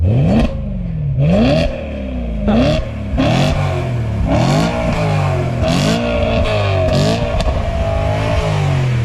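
An old sports car engine revs hard through repeated rising and falling sweeps, with sharp backfire pops punctuating the throttle blips; loud and close throughout, with no talking.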